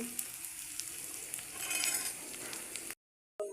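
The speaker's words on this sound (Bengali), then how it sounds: "মাছটি তেলের মধ্যে ভেজে নিচ্ছি এরপরে পেঁয়াজ মরিচ দিছি" Fish, onion and chili fry in hot oil, a steady close sizzle with faint clinks, cutting to brief silence near the end before the frying returns.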